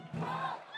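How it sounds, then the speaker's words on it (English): Home supporters cheer and roar at a Philippines Football League match between Kaya FC-Iloilo and Manila Digger, a short, steady swell of crowd noise holding loud for most of a second before easing off. "The support from the home crowd, understandably."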